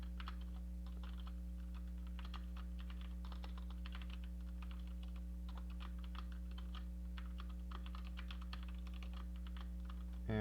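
Fingers tap steadily on a computer keyboard, typing out Python code, with quick irregular clicks running continuously over a constant low electrical hum and no talking.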